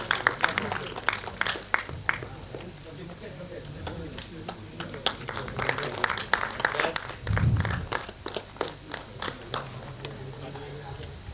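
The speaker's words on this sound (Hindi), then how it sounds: "एक बार जोरदार तालियां हो जाए सुरेश पारगी साहब के लिए" Scattered hand claps from an audience at an Indian trophy and guest-felicitation ceremony, a loose patter of individual claps that swells and fades over several seconds, with a voice talking over part of it.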